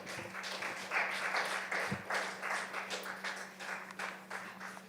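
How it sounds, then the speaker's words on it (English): Audience applause at a youth community gathering, quiet and somewhat distant clapping with a steady low hum in the background. "Clap it up for him"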